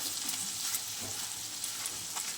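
Chopped jute leaves frying in a pan with turmeric and salt, a soft steady sizzle with faint stirring scrapes, alone and fairly quiet.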